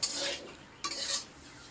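Bitter gourd frying with coconut, shrimp, green chili and onion in a pan, heard as two quick stirring scrapes with soft sizzle, close and brief, with no talking.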